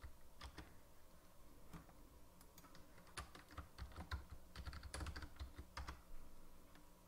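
Fast, steady clicking of a computer keyboard as a password is typed, with irregular close keystrokes and no talking.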